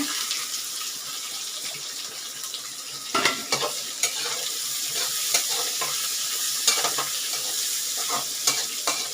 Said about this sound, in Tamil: இஞ்சி கருவேப்பிலை பச்சை மிளகாய் போட்டுடலாங்க வெங்காயமாக சேர்த்துடலாங்க